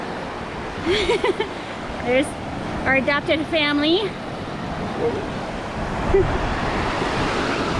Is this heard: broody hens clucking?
no